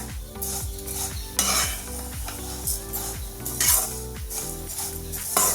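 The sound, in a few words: wheat vermicelli roasting in ghee, stirred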